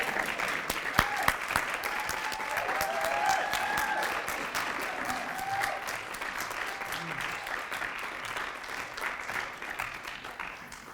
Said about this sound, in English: I want some clapping.